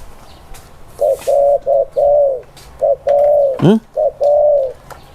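A spotted dove coos loud and close, a series of mellow, hollow notes in short and long phrases with a brief pause partway through. A rough squawk-like call interrupts near the middle.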